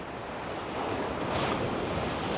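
Sea waves from a ferry's wake wash in at high tide along the seafront at Playa Blanca, a steady roaring surf that swells slightly louder midway, mixed with wind buffeting the microphone.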